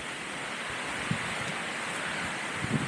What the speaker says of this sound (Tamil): அருவிக்கு சவுண்டு கேட்குது.